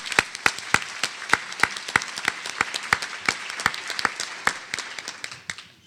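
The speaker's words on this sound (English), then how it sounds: "Another round of applause, please, for Chairman Scott." Audience applause for Chairman Scott at a criminal justice conference welcome session: a small crowd claps steadily for about six seconds, with sharp individual claps standing out close by over a softer bed of clapping.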